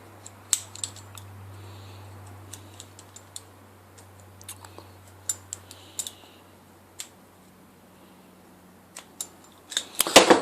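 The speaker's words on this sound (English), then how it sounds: "you get your Stanley blade and you cut away as much of the old seal as possible" Stanley blade cutting away an old air suspension compressor piston seal from a Land Rover Hitachi or Dunlop unit, heard as a series of close, sharp scraping clicks and snips over a quiet low hum.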